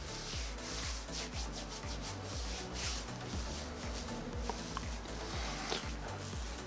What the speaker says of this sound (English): Rub that in on your hands.